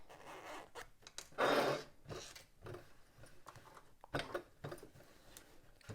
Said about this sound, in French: si je ferme ma fermeture à glissière